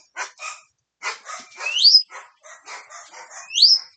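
Several dogs bark in uneven bursts, close and loud. Twice a rising electronic chime cuts through, a new phone's text tone that sounds like a doorbell.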